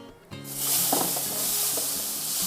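Capsicum hits a hot pan and sizzles loudly, a bright hissing fry that starts abruptly and continues with light stirring clatter.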